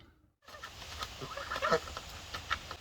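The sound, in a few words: goose calling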